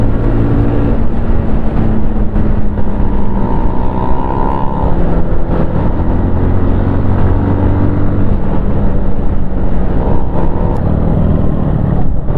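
Yamaha MT15 motorcycle with a dual exhaust, very loud and close, a continuous throaty engine roar with shifting rev pitches as it rides, no talking.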